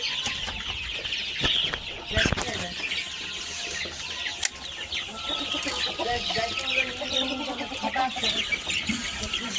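Large farm chickens cluck and chatter in a dense, continuous chorus nearby, with a few sharper squawks and faint human voices mixed into the steady flock noise.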